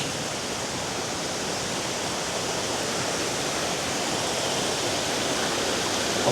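A waterfall at a silica mine, heard from a bridge above it, gives a steady, unbroken broadband rush of falling water that holds at an even level throughout.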